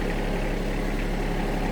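A tractor engine runs at a steady, loud, low rumble close by, with an even, unbroken drone and no talk.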